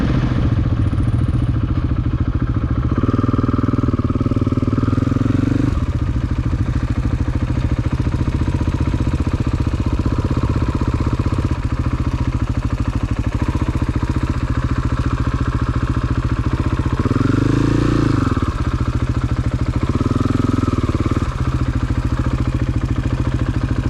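A motorcycle rides along a gravel road in Sweden, loud and steady, with engine drone and gravel clatter continuing throughout and the engine note swelling briefly a few times.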